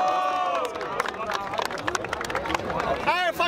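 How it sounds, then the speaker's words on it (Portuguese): A crowd claps and shouts after a rap battle, sharp uneven hand claps mixing with whoops and babble, and a host's voice breaks through near the end. "Palmas pra essa batalha!"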